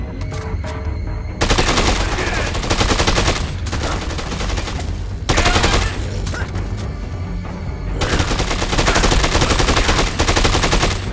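Rapid automatic gunfire from a zombie shooter video game, coming in long dense bursts with brief lulls between them, loud and close throughout with no talking.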